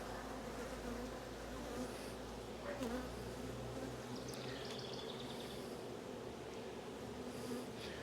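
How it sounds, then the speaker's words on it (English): Honeybees buzz steadily inside a queenless hive, a dense continuous drone that fills the scene at close range with no pauses, while a few faint bird chirps come through in the background. "Maybe that's why they're buzzing a little bit more than usual, because they know they're queenless."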